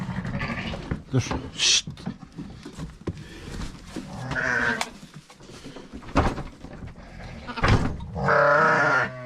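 Lambs and goats on a Turkish farm bleat in several loud, wavering calls close by, with someone speaking and hushing the animals between them.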